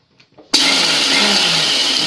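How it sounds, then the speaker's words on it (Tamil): An electric mixer grinder starts abruptly and whirs loudly for a brief spin, grinding roasted horse gram in a dry jar. The steady, close grinding roar follows a few faint taps and carries no talk. "இதை ட்ரையான ஜாரில் போட்டுட்டு ஒரு சுத்து மட்டும் சுற்றி எடுத்துங்க."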